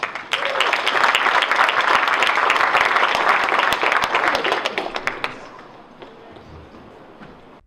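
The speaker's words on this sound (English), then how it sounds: "big round of applause for Chris Govias" An audience at a government service design talk in Toronto applauds a speaker, a full, sharp patter of clapping lasting about five seconds before dropping to a few scattered claps and room noise.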